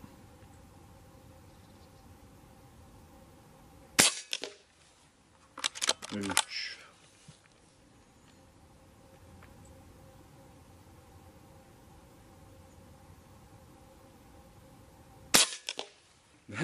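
Reximex Zone 5.5 PCP air rifle firing pellets outdoors, a sharp crack near 4 seconds, a rapid cluster of several shots around 5.5–6.5 seconds, and a lone final shot near the end, over steady low background hiss.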